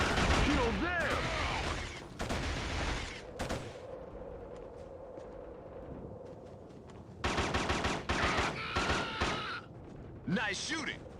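Bursts of automatic gunfire from a first-person shooter game on Sony hardware, loud rattling volleys separated by quieter stretches of in-game ambience, with talk over parts of it.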